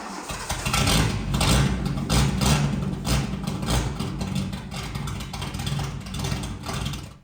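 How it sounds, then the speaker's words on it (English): A cheap supercar with a straight-piped exhaust idles and blips its engine, loud deep pulses rising and falling in repeated revs with no one talking. "there we have a rather aggressive exhaust. But how would it sound?"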